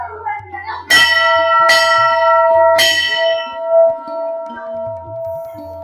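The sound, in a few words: bell ringing at Kali temple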